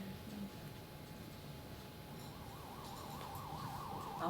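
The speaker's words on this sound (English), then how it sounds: "Ambulance. An ambulance." A distant ambulance siren wails faintly, its rising and falling tone emerging over steady background noise partway through.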